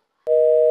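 Steady electronic phone tone sounding right after a call is hung up, a clean sustained two-pitch beep starting abruptly and holding loud and alone for about half a second.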